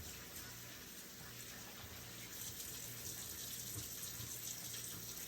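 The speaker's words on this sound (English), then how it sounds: "You have to wash your rice." Rice rinsed under running water from a tap, a faint, steady gush and splash close by, continuing evenly with no talk.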